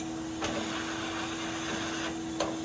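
A gutter vacuum hums with a steady motorized drone while working on pine needles, with a couple of faint rattling pulls of debris cutting through the constant whine.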